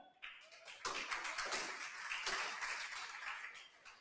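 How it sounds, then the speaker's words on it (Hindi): A classroom of students claps their hands, a brisk round of many overlapping claps that starts abruptly and holds loud and close before tapering slightly. "कंसिस्ट ऑफ वाले ताली बजाएं।"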